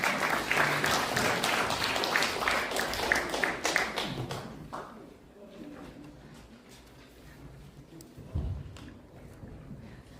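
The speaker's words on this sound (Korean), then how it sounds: "박수 부탁드리겠습니다" Applause from a seminar audience, dense clapping for the first few seconds that fades away, leaving a quiet room with a few stray taps.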